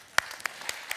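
A few sparse, evenly spaced claps from an audience at a talk on politics, four distinct hand strikes in about a second, faint and fading rather than building into full applause.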